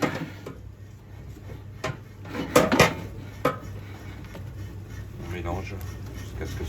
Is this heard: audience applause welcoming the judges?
no